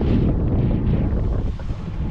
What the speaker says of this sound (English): Sailing beautifully.